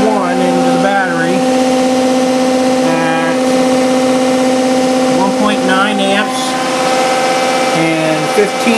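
An electric motor on a test rig spins up as its speed climbs, a loud continuous whine with steady tonal hum throughout, while someone talks over it at close range.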